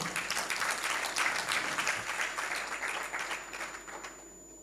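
A church congregation applauds during a sermon, dense steady clapping from many hands filling the room, then gradually thinning and fading out toward the end.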